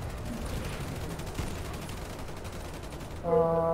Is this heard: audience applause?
no